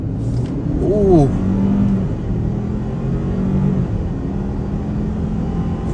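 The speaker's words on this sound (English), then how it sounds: "test out this truck's power, and on the gas" A 2022 Ford Ranger XLT pickup truck accelerating under throttle, its engine rising in pitch early on and then holding a steady rumbling drone from inside the cab, with a brief exclamation from a voice.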